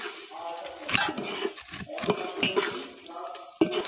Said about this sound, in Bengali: তারপর পরিমাণ মতো জল দিয়ে দেবো।